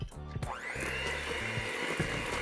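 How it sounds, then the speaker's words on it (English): An electric hand mixer starts up and whirs steadily as it beats egg into chocolate chip pecan cookie dough, a loud close motor drone with a rising whine and faint knocks against the bowl, no voices. "I'm gonna go ahead back in with my mixer and mix that up first."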